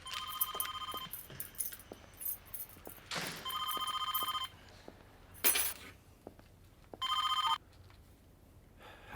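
Telephone bell ringing in bursts, about four separate rings spaced through a quiet room, moderately loud and unaccompanied by talk.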